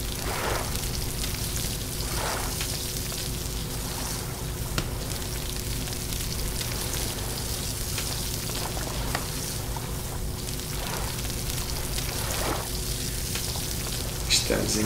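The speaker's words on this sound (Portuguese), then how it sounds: "Assar mais uma sardinha" A sardine roasts over a campfire in Stranded Deep, giving a continuous crackling, rain-like sizzle that stays steady throughout, with a faint voice now and then.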